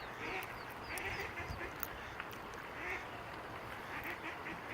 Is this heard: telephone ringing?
no